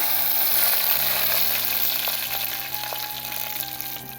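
Mustard seeds and chillies frying in hot oil for a Chhattisgarhi urad dal and colocasia leaf dish, a continuous close sizzle with light stirring noises, gradually easing, with no talking.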